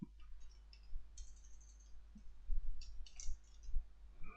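A computer mouse clicking on a button in accounting software, a few sharp light clicks scattered through a quiet stretch, close and fairly faint, with no talk.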